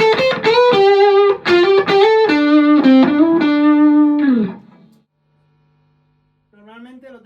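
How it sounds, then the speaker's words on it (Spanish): An electric guitar runs through a reverb pedal with a built-in preamp into a saturated amplifier, playing a quick run of bright, slightly overdriven notes that slide down and ring out before a short silence and one softer note. "Puedo saturar el amplificador."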